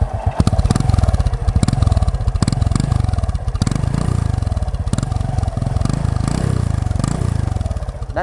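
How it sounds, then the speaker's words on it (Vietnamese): A 1999 Wave Thai 110 motorcycle runs loud and close through its 1985 exhaust, a steady rumbling throb with a few rough pulses and clattering revs throughout. "Bồ nổ nghe rất là đầm ha"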